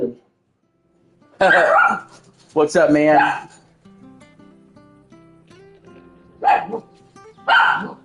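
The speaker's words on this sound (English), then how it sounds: "stop barking" A dog barks in loud, separated bursts, a few sharp yips at a time, in a room where someone speaks briefly and faint steady tones hum in the background.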